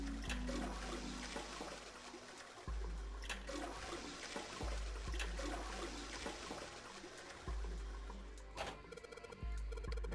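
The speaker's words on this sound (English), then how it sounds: "I guess I'll flush this one 4 times" A video game toilet from the Nonary Games is flushed four times in a row, each a gurgling rush of water that trickles off before the next, heard faint.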